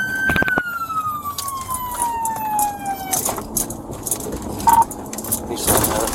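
A police car siren wails with a falling tone, then fades into road and traffic noise with scattered clunks and short bursts, moderately distant and without talk.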